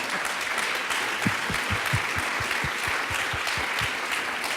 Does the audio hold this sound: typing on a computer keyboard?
no